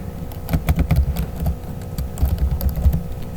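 Typing on a computer keyboard, a quick run of close, crisp key clicks that pauses briefly and resumes, with no voices.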